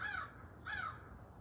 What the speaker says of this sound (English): You hear the chirping of the blackbird.